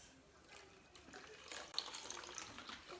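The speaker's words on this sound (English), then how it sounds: "you're going to get more of that milk coming through into your bowl" Homemade almond milk strains through a nut milk bag into a bowl, making a soft, steady trickle and light splashing that builds slightly, faint and close with no talk.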